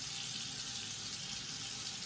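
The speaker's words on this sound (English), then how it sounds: "So I like to just wet my face a little bit before." Water runs from a bathroom tap in a steady, even hiss with no pauses while a face is wetted at the sink, close and moderately quiet.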